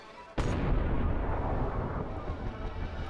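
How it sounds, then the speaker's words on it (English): A layered gunshot sound effect, built from several effects stacked together for impact, hits as one sudden loud blast. A long, booming, rumbling tail follows and slowly decays, with no voices. "so let's say with that gunshot, and there's actually multiple sound effects that are layered together"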